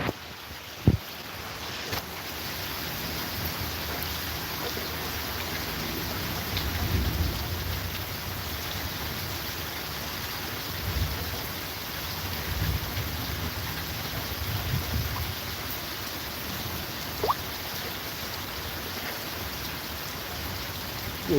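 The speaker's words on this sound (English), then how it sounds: "Didn't think it was going to rain today." Steady heavy rain pours outdoors near a porch, a dense continuous hiss of drops with faint rumbles of distant thunder underneath, no one speaking.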